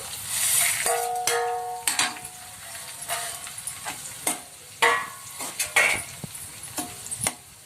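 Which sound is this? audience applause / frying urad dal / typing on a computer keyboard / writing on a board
frying urad dal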